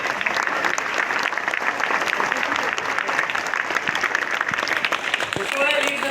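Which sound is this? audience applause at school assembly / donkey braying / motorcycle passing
audience applause at school assembly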